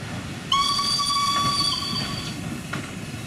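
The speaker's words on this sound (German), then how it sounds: "Wir fahren mit einem Charterzug von Ambarawa nach Tuntang." A 1902 Hanomag-built Prussian P4-2 steam locomotive hauls a charter train on Java's 1067 mm gauge line, its steady rail rumble joined after a moment by a loud, sustained multi-tone whistle that holds for several seconds.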